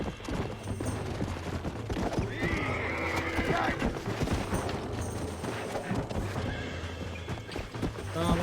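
Horses in the Red Dead Redemption video game whinny and neigh repeatedly amid clip-clopping hooves, with distant gunfire, game music and a player talking over the action.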